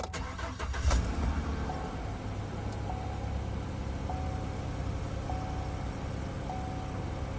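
A 2019 Chevy Silverado pickup with frame damage and 68,000 miles cranks and starts with a short rough burst, then settles into a steady, even idle hum that carries on without talk.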